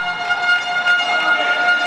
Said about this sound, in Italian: Fischio arbitrale per sanzionare la difesa di Elia